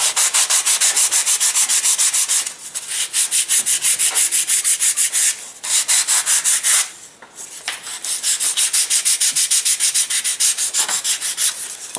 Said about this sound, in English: if you have sanding block and you have time, if you round this off, it just makes the airplane fly better